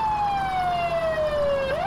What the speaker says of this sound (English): We'll just turn our sirens off